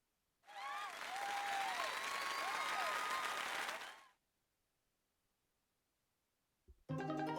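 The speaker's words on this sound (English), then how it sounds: "please give a big round of applause for our talented participants" Sustained applause from a crowd in the video game Fire Emblem: Three Houses for about three and a half seconds, with a few whistle-like tones mixed in, then fading to silence before a brief burst of music.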